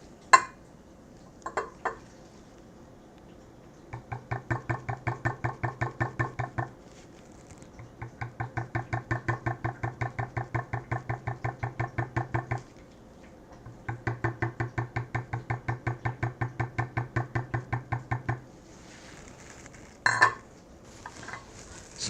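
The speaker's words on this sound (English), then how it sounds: "we're actually going to use another one of our beveling tools to knock it back and give it some texture" A metal beveling tool is struck repeatedly with a mallet to texture leather: bursts of rapid, even tapping that stop and restart several times, with a few separate louder knocks at the start and end.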